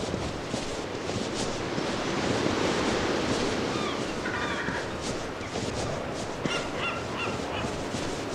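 Honking goose-like bird calls in a video game, heard faintly over a steady wash of wind and surf-like ambience, a few calls clustered near the middle and end.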